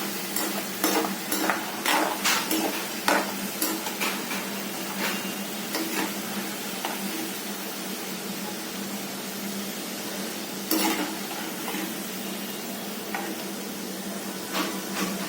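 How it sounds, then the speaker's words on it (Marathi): Spices hit hot oil for a phodni tempering while potatoes are cooked for a home tiffin: a steady, even sizzle with sharp clinks of stirring early on and near the middle. "आता फोडणी देते"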